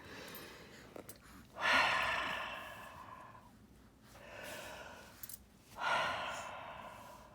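Deep breaths taken during a meditation come as two slow, close inhales, each followed by a long, fading exhale, in a quiet room with no talking.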